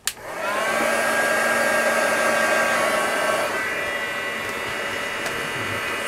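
A hair dryer runs steadily close by while drying glued tissue paper fabric, starting with a click, then holding a loud continuous whir that drops slightly in pitch partway through.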